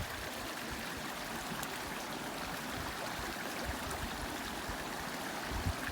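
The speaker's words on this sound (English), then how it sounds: "fording this little mini river" Water from a small river runs and trickles steadily while being waded across on foot during a countryside hike on the Dingle Way in Ireland, a close, continuous broadband rush with no voices.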